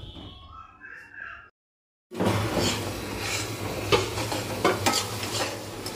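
A brief voice is followed by a short silence, then masala with coriander powder, salt and turmeric for an egg and potato curry starts frying in a pan, a steady close sizzle with scraping stirs and spoon clicks.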